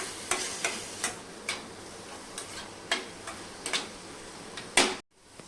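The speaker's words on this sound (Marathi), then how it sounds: "याच्यामध्ये आपण हा बारीक चिरून घेतलेला कांदा टाकून घ्यायचा आहे कांदा छान आपल्याला मऊ होईपर्यंत शिजवून घ्यायचा" Finely chopped onion cooking in a pan for Dhaba-style mutton kheema, soft frying hiss under a series of sharp, evenly spaced clicks and taps like a spatula striking the pan, ending abruptly.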